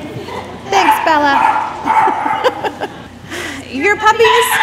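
Puppies barking, yipping and whimpering at a puppy kindergarten graduation class, several young dogs close by in a busy indoor room with people talking and laughing underneath.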